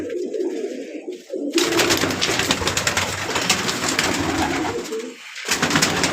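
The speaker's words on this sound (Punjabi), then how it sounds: "ਆ ਬੈਠਾ ਵੀ ਕਬੂਤਰ ਰਾਜਨ ਵਾਲਾ ਜੋ" Pigeons of a kept breeding flock coo softly and repeatedly close by, their low throaty calls layered over a rough, rustling background noise that swells partway through.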